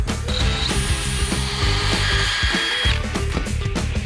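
A power drill whirs steadily at close range into wood floorboards, its motor whine holding for several seconds with brief dips in pitch.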